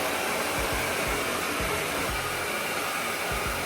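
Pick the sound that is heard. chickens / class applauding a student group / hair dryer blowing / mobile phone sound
hair dryer blowing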